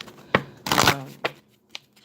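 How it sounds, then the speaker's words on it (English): A deck of cards being shuffled by hand during a card reading: a riffling burst in the middle flanked by sharp taps and flicks, close and clear. "I shuffle them just like I'm doing right now on this live stream."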